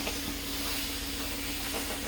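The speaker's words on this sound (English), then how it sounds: "we'll just start steaming" A yarn steamer sends a steady, close hiss of steam onto yarn to set its twist, with a faint low hum running underneath.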